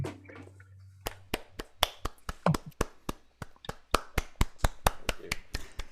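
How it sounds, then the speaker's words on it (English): A handful of people clap over an online video call, sharp separate claps arriving unevenly and a bit thin, each one distinct, with a short hum at the start and no talking. "Kenji, you're hearing just a few of us clap, but we can't unmute all 200 people."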